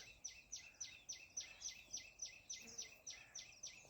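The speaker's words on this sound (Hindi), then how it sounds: "ये पक्षी की आवाज़ बहुत," A bird calls outdoors on a riverbank in a fast, steady series of about fifteen sharp, repeated chirping notes, faint and distant, with no talking over it.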